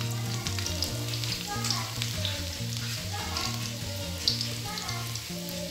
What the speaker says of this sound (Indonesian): kita siapkan minyak untuk menggoreng bawang putih dan kencurnya tadi ya